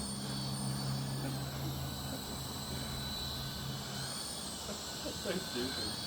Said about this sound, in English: There goes the Temu helicopter.